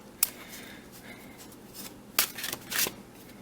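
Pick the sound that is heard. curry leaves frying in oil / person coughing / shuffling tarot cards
shuffling tarot cards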